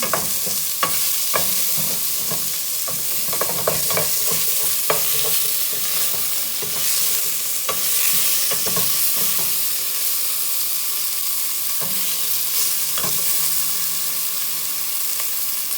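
Beef chunks browning in a pan for stew, a steady loud sizzle and hiss throughout with scattered clicks and scrapes of turning meat, heard alone without voices.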